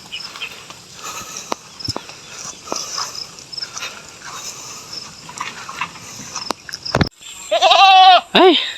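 Goats on a rural farm near rice paddies bleat loudly near the end in a couple of wavering calls, after a stretch of quieter outdoor rustling and footsteps.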